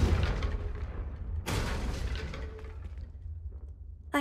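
Fiery spell blasts hitting candelabras in Hogwarts Legacy: a booming, rumbling burst at the start, a second sharp explosive hit around the middle that fades into crackling decay, with another thump right at the end; no talking.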